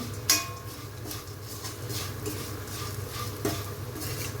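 A spoon stirs cooked rice with salt in a pan while making lemon rice, giving a steady soft scraping and gentle sizzle, with one sharp clink of metal near the start.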